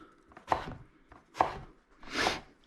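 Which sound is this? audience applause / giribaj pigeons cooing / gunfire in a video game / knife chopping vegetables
knife chopping vegetables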